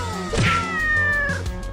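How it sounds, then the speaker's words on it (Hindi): A cartoon cat lets out a loud, drawn-out meow with a rising then falling wail, followed by a shorter second cry, over steady background music. "अरे ये क्या, शेर तो बिल्ली बन गया।"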